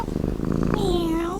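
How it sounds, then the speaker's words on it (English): A cat purrs in a cat food radio commercial, a short rumbling purr lasting just over a second beneath a voice, close and moderately loud. "Guaranteed to make your cat so happy, it could just purr."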